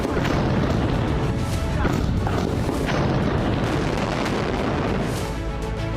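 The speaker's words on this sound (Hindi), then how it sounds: "तेज धमाका होता है और पूरी बिल्डिंग जमींदोज हो जाती है।" A loud explosion brings down a whole building in Gaza, a sustained heavy roaring boom with crumbling rumble that fills the entire stretch at high level.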